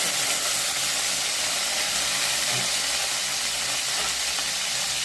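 Onion, tomato, mustard seeds, cumin and curry leaves sauté in hot oil for a brinjal kuzhambu, giving a loud, steady sizzling hiss close by with no voices.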